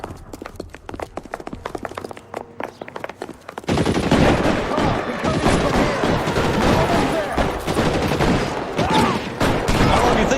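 A gunfight in L.A. Noire: sharp single shots crack out irregularly at first, then a dense, loud barrage of overlapping rapid gunfire takes over and keeps going to the end.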